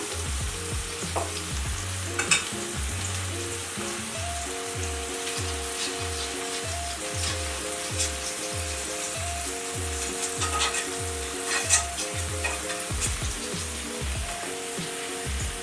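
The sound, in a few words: butter sizzling in a pan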